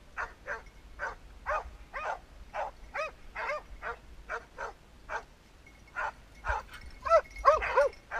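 An Airedale terrier barks repeatedly outdoors during training, a steady series of sharp, fairly close barks with some yips and whimpers, growing louder and more excited near the end.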